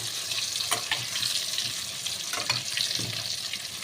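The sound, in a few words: potatoes frying in oil in a wok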